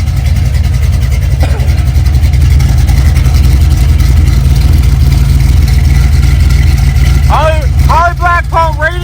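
An LS-swapped Chevy S10 pickup fitted with a new Holley Black fuel pump runs close by with a loud, steady low rumble. Brief higher tonal sounds break through near the end.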